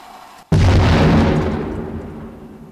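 A single loud, close detonation of an explosive hazard set off by sappers in a mined settlement in the Kharkiv region, a sudden deep boom after near silence that rolls and slowly fades over two seconds.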